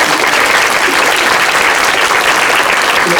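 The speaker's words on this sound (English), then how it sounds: "Can we give a round of applause for all the" A loud, dense round of applause from an audience at an Islamic center program, steady and continuous throughout with no talking over it.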